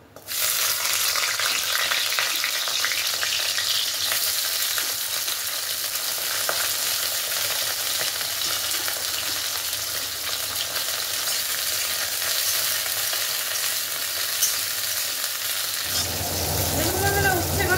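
Bitter gourd pieces drop into hot oil in a wok for a shukto, setting off a loud, continuous hiss that holds steady and then shifts tone near the end.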